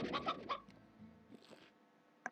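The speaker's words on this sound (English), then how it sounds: "And a chicken." Chicken clucking inside the video game Slime Rancher: a few quick, close clucks and chirps that bunch up at the start, then trail off into softer noises and end on one sharp click.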